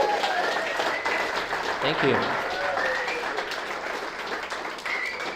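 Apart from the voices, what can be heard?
audience clapping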